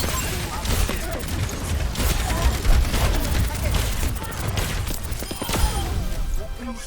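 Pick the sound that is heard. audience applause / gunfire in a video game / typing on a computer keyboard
gunfire in a video game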